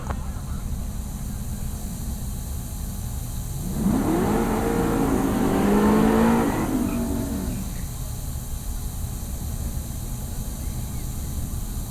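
A 1st gen F-body Firebird drag car does a burnout in the burnout box at Heartland Park Topeka, the engine swelling from a distant idle into a few seconds of loud revving before dropping back, over steady background noise.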